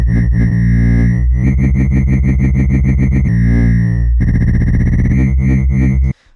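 Sytrus 4 wobble bass synth throbbing loud and dense, its high harmonic pulsing in rapid rhythmic modulation that changes speed between sections, then cutting off abruptly at the end.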